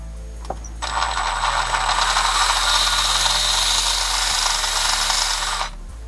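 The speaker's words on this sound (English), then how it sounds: "after much screwing around with the little sanding grit on the Dremel" A Dremel rotary tool with a small sanding grit bit spins up and grinds steadily on an Element RC Gatekeeper part, a loud, sustained high whine lasting several seconds before cutting off.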